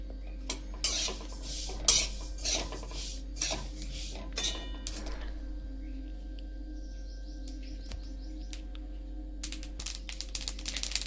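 Sesame seeds being dry-roasted in a pan over a medium gas flame, heard as close, irregular scraping and clinking of a utensil stirring against the pan, busy for several seconds, then quieter with a few sparse clicks.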